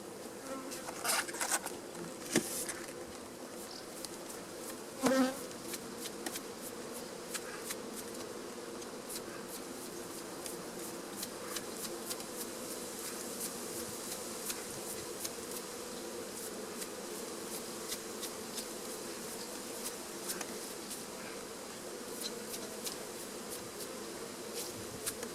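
Honeybees buzz steadily around an open hive during a summer honey harvest, a dense continuous drone of many insects close by with a few brief knocks and clicks, and no talking.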